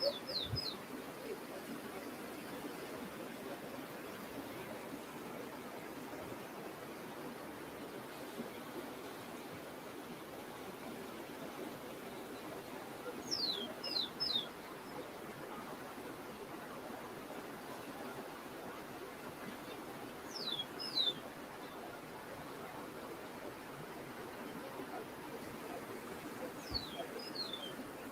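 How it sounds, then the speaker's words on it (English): Faint bird chirps in short bursts, a few brief calls spaced several seconds apart, over a steady rushing outdoor background. "I hear the bird chirping"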